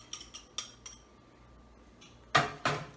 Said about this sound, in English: Just mix it up so that it's all incorporated in there.